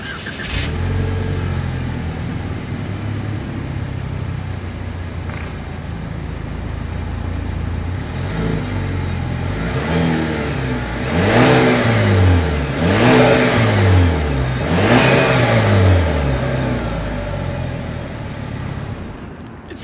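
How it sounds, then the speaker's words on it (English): 2020 Chevrolet Malibu with dual exhaust: the engine idles steadily, then gives three rising revs in a row that fall back between each, loud and close, with no talking. "As always, here is that exhaust clip"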